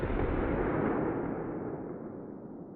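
A Remington .32 ACP FMJ pistol round is fired into ballistic gel with a rib simulation, giving one loud report that trails off into a long, fading rumble.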